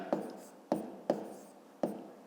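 Numbers are written by hand during a fifth-grade math lesson: four separate quick scratching strokes, evenly spaced and close, each fading briefly, in a quiet room.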